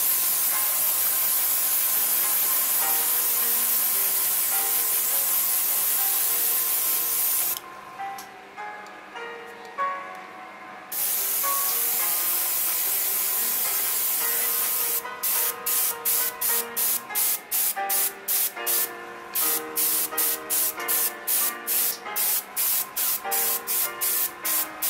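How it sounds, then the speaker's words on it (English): Airbrush spraying paint onto a Hasegawa 1/72 Kawasaki T-4 Blue Impulse plastic model: a loud continuous hiss, a short pause, then rapid regular bursts of spray with ticking clicks. "there was a lot of paint coming out of my airbrush"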